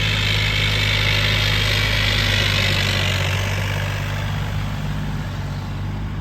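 A tractor engine idles steadily in a rice field during sowing, giving a continuous low mechanical rumble with a constant hum, close and fairly loud, with no voices.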